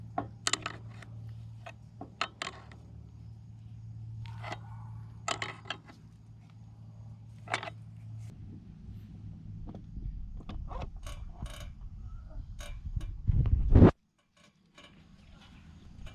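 Tools click, tap and rattle as the pump is removed from a Jeep XJ transmission, with a low steady hum under scattered sharp knocks. A louder grinding scrape builds near the end, then cuts off abruptly.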